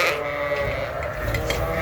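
Sheep and lambs on a farm bleat loudly and close by, several overlapping calls in quick succession over a busy, constant background.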